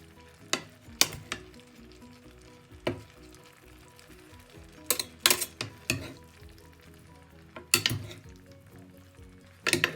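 Tomato sauce sizzles softly in a small pan while a utensil stirs it, with occasional sharp scrapes and clinks against the pan over a steady, quiet frying hiss.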